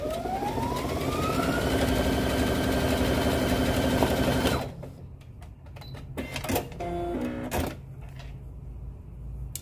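A Brother sewing machine stitching a blind hem runs steadily at close range for about four and a half seconds, then stops, followed by scattered light clicks and handling noises.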